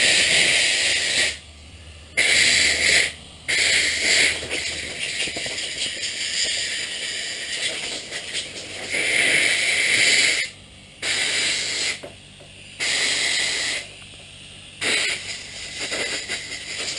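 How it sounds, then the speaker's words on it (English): Bursts of compressed air blow dust out of a brushless RC motor, loud hissing blasts repeating in short and longer spurts with brief quiet gaps between them. "at times like this, a bit of compressed air can be your best friend"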